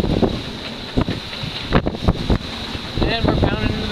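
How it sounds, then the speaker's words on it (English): Albin Vega sailboat under one reef in the main and a partly furled genoa, pounding into the swell: broadband wind and water rush with repeated thumps of the hull hitting waves, close and steady. "And we're pounding into the swell, doing our thing"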